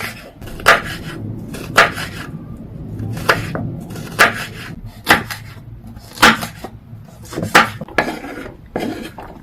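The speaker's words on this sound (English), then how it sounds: "And then now I'm going to go ahead and just chop my vegetables." Sharp knife strokes chop vegetables such as peppers and onions on a cutting board, about a dozen distinct chops in a loose irregular rhythm, close and clear, with no one speaking.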